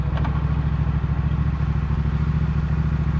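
A Yamaha FZ-07 motorcycle engine runs steadily nearby, a low, even rumble with a rapid pulsing throb and no change in pace throughout.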